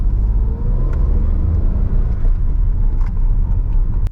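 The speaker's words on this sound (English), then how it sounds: "she accelerates really quickly" A car accelerates quickly on a UK mock driving test, heard from inside as a loud, low engine rumble that holds steady throughout with a few faint clicks, and no talking.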